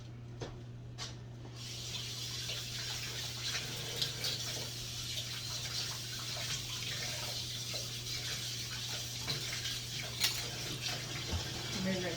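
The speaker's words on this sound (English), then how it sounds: "Let me rinse that lid off." Tap water runs steadily over a pot lid being rinsed in a sink, a faint continuous splash with a constant low hum in the background and a few small clinks.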